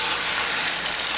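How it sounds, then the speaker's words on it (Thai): Beaten eggs hit a hot Teflon frying pan with a little oil, giving off a loud, even, steady sizzling hiss that holds for about a second with no talk. "พอกระทะเริ่มร้อนนะคะเราจะใส่ไข่ลงไปค่ะ"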